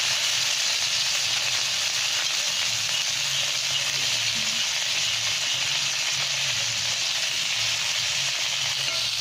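Onion and tomato frying for a bitter gourd and salted egg sauté, a steady dense sizzle running unbroken and fairly loud throughout with a faint low rumble beneath.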